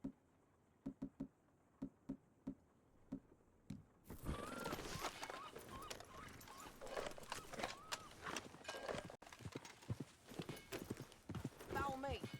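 Horse hooves clip-clop in the video game Red Dead Redemption 2, a steady walking rhythm heard alone at first, then continuing under talking voices and busier game sound.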